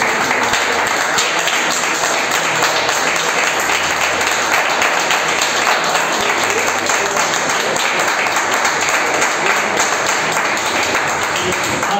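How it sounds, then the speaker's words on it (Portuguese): A church congregation applauds together in praise, a dense continuous wash of clapping filling the room at steady loudness throughout, with no break or fade. "Por isso, vamos aplaudir o Senhor."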